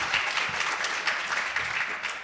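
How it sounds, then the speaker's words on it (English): Audience applause at a SXSW EDU panel discussion, a steady crowd of hands clapping at moderate volume throughout, with no talk over it. "I see we've gotten to a rhythm of applauding after each response"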